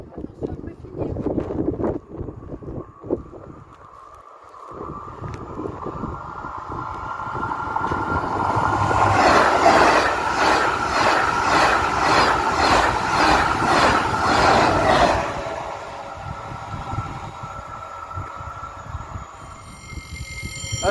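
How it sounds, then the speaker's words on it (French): A TGV high-speed train passing on the line east of Lyon, its roar building and staying loud for several seconds before fading, with wind buffeting and people talking nearby before and after. "Ah, c'est un TGV, attention."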